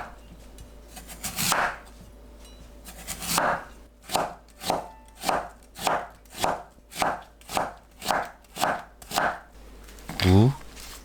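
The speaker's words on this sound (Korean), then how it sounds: "무를 채 썰어 주세요." A knife cuts radish into thin strips on a board, a few separate strokes followed by a steady run of about a dozen evenly spaced chops, close and clear, with a brief clatter at the end.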